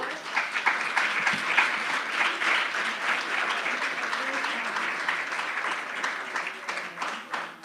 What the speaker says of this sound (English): Please, a round of applause for Forrest.